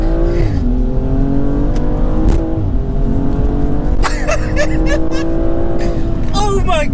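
BMW M235i engine rumbling, then revving hard as the car accelerates, with sharp rising bursts and gear changes close by, while people talk excitedly over it.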